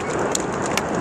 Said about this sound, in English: It's starting to really rain.